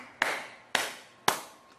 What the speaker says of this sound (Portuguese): o padre está batendo palma ironicamente